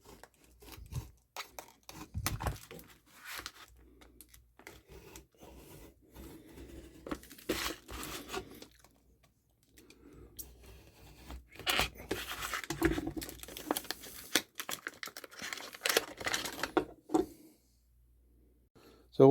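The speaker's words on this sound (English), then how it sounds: "So we'll use our Fiskars Pro knife here to open this up this morning." A sharp Fiskars Pro utility knife slicing open the packaging of a receptacle tester, with intermittent tearing, scraping and crinkling of plastic and cardboard in irregular bursts, close by, while someone talks between the noises.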